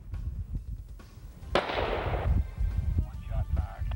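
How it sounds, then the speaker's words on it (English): A single gunshot fired by a car passenger at a decoy deer in Oklahoma cracks out sharply partway through, amid low rumbling noise and people talking. "One shot fired."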